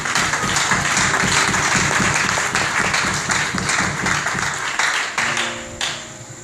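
A church congregation applauds and acclaims the Lord in a sustained burst of loud, dense clapping that thins out and fades near the end.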